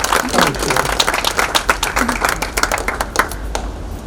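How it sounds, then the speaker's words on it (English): Applause at a Brooklyn Health Equity Foundation open house: a room of people clapping continuously, dense and fairly close, gradually thinning toward the end. "A round of applause, please,"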